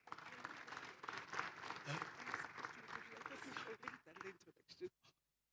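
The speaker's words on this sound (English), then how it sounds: "Another round of applause for Prof. Dumile." Applause from an audience at the launch of a university research centre for rural and inclusive education, a fairly close clatter of clapping under a speaker's voice, thinning and cutting off abruptly at the end.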